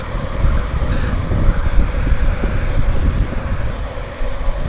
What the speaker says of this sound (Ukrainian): а тут вітер розгрався